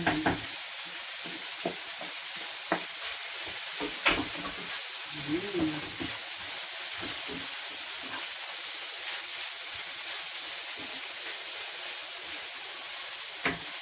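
Bitter gourd (ampalaya) stir-frying in a pan gives a constant hiss and sizzle, broken by scattered clicks of stirring over about fourteen seconds, with a brief voice in the middle.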